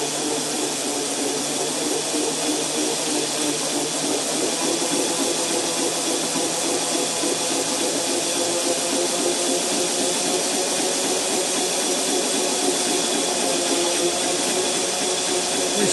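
A pulley-driven machine being spun up by hand gives a steady, loud mechanical whir with a dense hum and a faint rhythmic flutter, continuous throughout with no voices.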